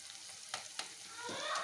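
Vangibath gojju made with MTR powder and tomato sizzles steadily in a pan while a spoon stirs it, with a few sharp scraping clicks over a soft, constant frying hiss.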